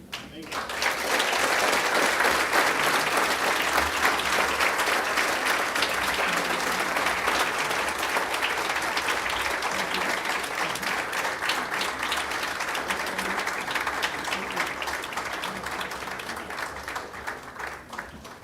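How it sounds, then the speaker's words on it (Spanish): Sustained applause from a church congregation after a sermon by William Soto Santiago in San José, Costa Rica; dense, steady clapping that fills the room for the whole stretch and tapers slightly near the end. "Yo creo que él se merece un fuerte aplauso"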